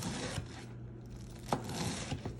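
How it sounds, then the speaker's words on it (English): Knife cross-cutting slices of cabbage on a board, crisp crunching cuts heard close up, with a few sharper chops standing out at irregular intervals and no talk. "with the slices of cabbage, you can cross cut it like this"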